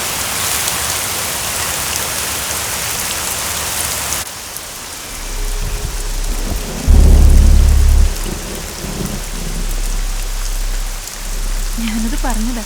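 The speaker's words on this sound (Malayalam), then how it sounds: "നന്നായിട്ട് ഇടിയും വെട്ടുന്നുണ്ട്" Heavy rain pours steadily throughout, with deep thunder rumbling low and loud partway through and a brief voice near the end.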